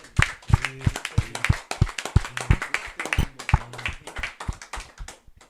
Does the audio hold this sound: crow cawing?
no